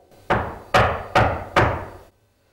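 Four firm, evenly spaced knocks land on a closed door, each ringing briefly before silence follows.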